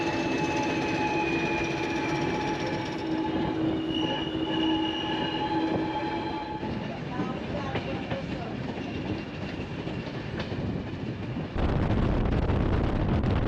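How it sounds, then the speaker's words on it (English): An English Electric diesel train engine on Portugal's Douro Valley line accelerates with a rising tonal whine over rumbling, clattering wheels, loud and close from inside, then a rush of louder track noise near the end. "And then the English electric whine comes in strong as we accelerate away."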